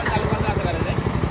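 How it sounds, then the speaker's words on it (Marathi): A newly bought power tiller engine runs steadily after starting, its low, even chugging continuous throughout, with a person talking over it. "झालाय चालू आता ट्रॅक्टर."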